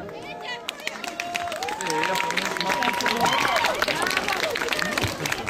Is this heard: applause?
yes